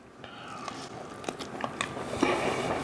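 A crisp bite into an oven-fried chicken wing, with a few crunchy snaps spread through a quiet room and close to the ear, and no one talking.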